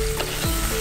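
Coconut frying in coconut oil for a Kerala dry roasted chicken, a close, steady sizzle with light stirring scrapes, continuous through a brief moment.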